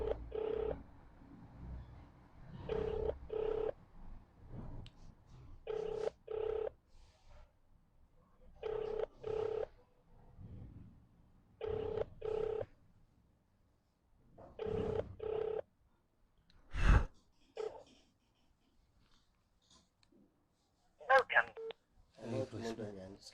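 An outgoing phone call rings unanswered, the ringback tone repeating in faint paired pulses at a steady rhythm, with some talk audible in places.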